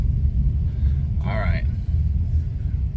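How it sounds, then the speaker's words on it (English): A Power Wagon pickup truck driving in gloomy Alaskan weather: a low, steady engine and road rumble runs throughout, with a brief higher whine or voice near the middle. "Still a good day to be driving a Power Wagon."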